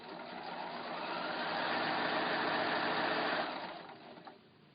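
A sewing machine runs in a steady, close whirring hum as it stitches quilt block pieces along a quarter-inch seam, then winds down and stops after about three and a half seconds.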